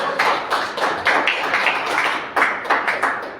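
A church congregation claps in a steady, rhythmic beat, with sharp bursts repeating closely one after another and no voices over them.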